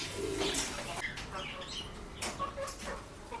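Soft pigeon coos murmur nearby alongside a few scattered bird calls and brief rustles, fairly quiet overall.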